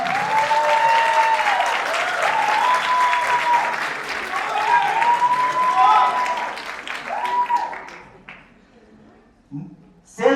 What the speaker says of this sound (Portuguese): vocês aplausos para Alexandre Gomes